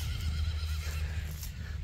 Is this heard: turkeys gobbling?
no